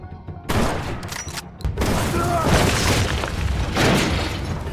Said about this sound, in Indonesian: hingga terjadilah aksi tembak-tembakan